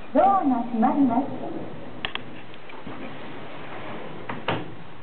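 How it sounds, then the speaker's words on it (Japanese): A Mitsubishi elevator door slides shut with two soft, brief clunks after a short recorded announcement voice, against a quiet hum from the car. "ドアが閉まります。"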